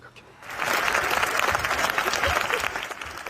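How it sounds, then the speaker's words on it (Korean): A festival audience bursts into applause after a film screening, the clapping swelling in sharply after a quiet half-second and staying dense and loud, mixed with crowd murmur and cheering. "영화가 끝난 뒤 약 7분에 걸쳐 기립박수와 환호가 쏟아졌습니다"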